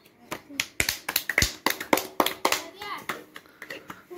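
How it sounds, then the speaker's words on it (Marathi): Children clapping their hands together in a room, a quick run of sharp, close, uneven claps lasting a few seconds, with kids' voices chattering faintly between them. "टाळ्या वाजवा."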